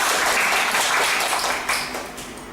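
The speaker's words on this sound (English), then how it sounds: "Please give her a big round of applause." At a Toastmasters club meeting, a room of members gives a big round of applause, dense clapping close and fairly loud that tapers slightly toward the end.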